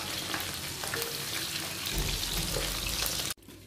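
Goose pieces, already pressure-cooked until tender, frying in a pan with a steady close sizzle and stir, ending abruptly in a sharp clunk followed by quieter hiss.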